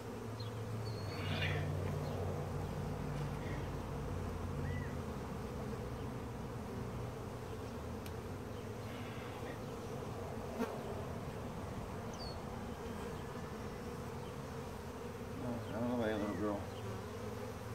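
Honeybees buzz steadily around an opened museum beehive, a dense, continuous hum close by with the occasional louder bee passing near, and voices faint in the background.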